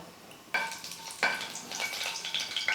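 Whole spices including fennel seeds crackle and sizzle in hot oil, with a couple of sharp additions bumping the sizzle louder, a steady close frying hiss throughout.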